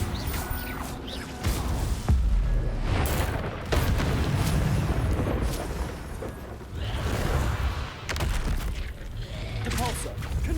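Confringo blasting spell in Hogwarts Legacy, repeated booming magical bursts and crackling impacts in quick succession amid dense combat noise, loud and close throughout with a voice casting over them.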